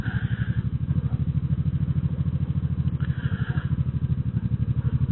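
A motorcycle engine chugs at low speed during slow U-turn practice, with a rapid, even pulsing exhaust beat that stays close and steady throughout, with no talk.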